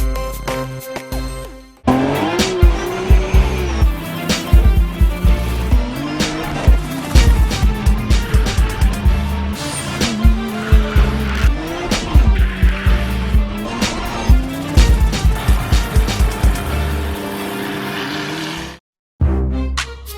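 A black Nissan R32 GT-R race car drives hard, its engine roaring loudly and close with rapid gear-change bursts and tire squeal throughout, cutting off abruptly near the end.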